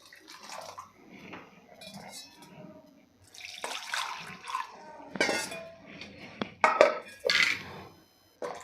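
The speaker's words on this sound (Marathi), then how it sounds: "तर इथे मी गरम पाणी घालणार आहे" Hot water is poured from a glass into a pot of pavta rassa vegetable curry, with soft liquid splashing and clinks of cookware that grow louder toward the end.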